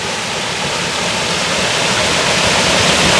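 Water pours steadily from the source pool at the origin of the Ghataprabha River in Chaukul, a close, loud, unbroken rushing hiss that holds level throughout with no voices.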